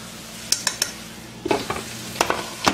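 Potatoes frying in a pan give a soft steady sizzle, broken by several sharp utensil clicks and scrapes against the pan in quick bursts, close and fairly loud.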